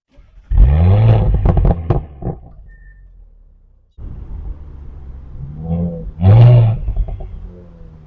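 An Audi S5 coupe exhaust burbles and pops on deceleration around 3,000 to 4,000 RPM, giving two loud, close bursts of crackling rumble separated by a quiet gap.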